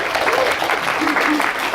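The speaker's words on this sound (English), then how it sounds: "an actual spontaneous round of applause" An audience at Bridgewater College gives a spontaneous round of applause, heard as a short, dense burst of clapping at close range.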